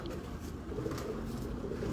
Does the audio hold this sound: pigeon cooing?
yes